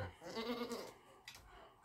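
A goat from a flock bleats outside, a single wavering call at moderate distance over a low background rumble.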